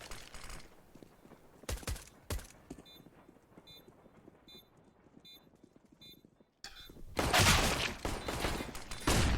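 Gunfire in Counter-Strike on the Train map: short bursts of shots early on, then a long, loud, dense volley of rapid fire after a brief silence, with no talk.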